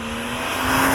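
BMW Z3M Coupe with the E36 M3 S50 engine, 316 horsepower, droning loud and steady with a rising note as it pulls through a brief one-second stretch, no talk.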